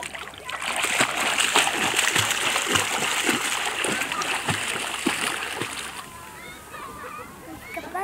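A child swimming in sea water at a beach, with steady splashing and sloshing close by, rhythmic slaps of water over continuous surf noise and a voice speaking.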